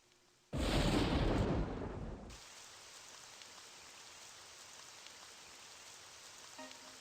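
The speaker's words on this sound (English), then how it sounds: "Oh, it's raining." In Super Danganranpa Another 2, rain starts with a sudden loud, dense downpour hiss lasting about two seconds, then settles into a softer, steady patter that continues to the end.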